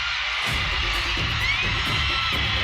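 A volleyball arena crowd during a PVL All-Filipino Conference semifinal between Creamline and Petro Gazz roars steadily as a player steps to the service line, with thunderstick-like thumps pulsing rhythmically beneath the cheering.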